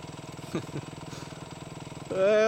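A motorcycle engine runs close by at a steady idle pulse, then revs up sharply near the end, with voices talking over it.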